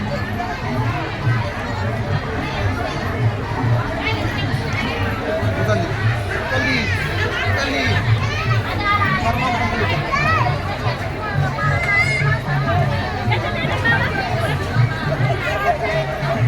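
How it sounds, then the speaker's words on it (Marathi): A large crowd of devotees gathered at the Yevalwadi pilgrimage on the Shri Kshetra Madhi to Yevalwadi dindi procession makes a continuous babble of many voices, with steady low rumble and chatter close around. "श्री क्षेत्र मढी ते येवलवाडी ही भक्तांची अलोट गर्दी या ठिकाणी जमलेली आहे।"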